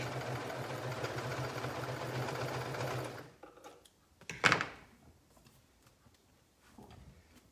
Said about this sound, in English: I'm stitching it with the cover stitch machine